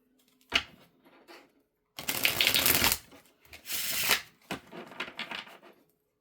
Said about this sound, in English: Let me shuffle this a couple more times.